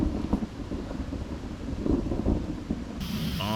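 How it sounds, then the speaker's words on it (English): Torrential rain pours in a thunderstorm at a stealth campsite, a steady loud roar with low thunder rumbles and wind buffeting the microphone, no one speaking. "That is raining a lot harder than I thought it would."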